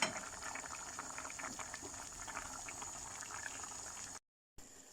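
Bulgur pilaf with kavurma simmering in a covered pot on the stove, a steady soft bubbling hiss that runs evenly throughout before a brief cut of silence near the end.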